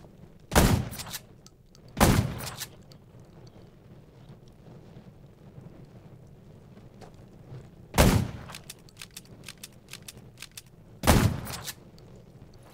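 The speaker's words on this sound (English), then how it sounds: "Gunshots will attract more zombies." Gunfire in the Undawn survival shooter game: four sharp, loud shots spaced irregularly apart, each a single crack, over a low windy ambient background.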